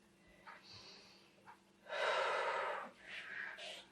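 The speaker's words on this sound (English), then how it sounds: "deep breath in, deep breath out" A person breathing deeply in and out during a stretch, with soft breaths followed by one long, loud exhale that trails off, then fainter breathy sounds.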